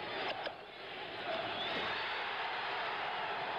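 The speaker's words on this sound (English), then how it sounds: "Listen to the crowd now. They picked up the chant again." Boxing arena crowd at a 1977 heavyweight bout chanting a fighter's name, a dense, loud, sustained roar of many voices filling the space without pause.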